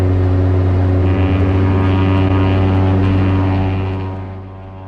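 A Cessna turboprop's propeller and engine drone loudly and steadily during overspeed governor and auto-feather checks. The deep tonal hum fades noticeably in the last second.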